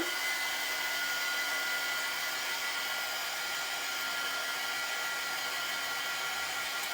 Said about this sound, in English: now we're going to hit this with the dryer